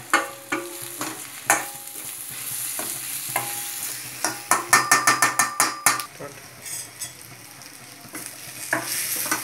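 Masala for a Hyderabadi mutton curry sizzles and fries in oil in a pan, with repeated close scraping stirs and clinks of a spoon against the metal, bursts that come quicker in the middle, no talking.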